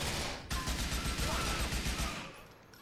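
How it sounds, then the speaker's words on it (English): Gunfire in the video game GTA 4 during a strip club shootout, a dense, rapid burst of shots rattling steadily for about two seconds after a sharp start, then fading out. "I'm getting shot. I'm getting shot from behind"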